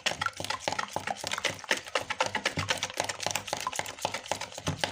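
Rapid, rhythmic clicking and tapping of a utensil whisking beaten eggs in a bowl for an omelette, close and continuous with steady quick strokes.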